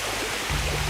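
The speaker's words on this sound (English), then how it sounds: "It's quite a high waterfall." Steady, dense rush of falling water from a high jungle waterfall fills the scene, a constant broadband roar with a low rumble underneath and no voices.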